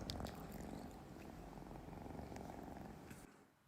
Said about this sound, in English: It's a cat doing a bong.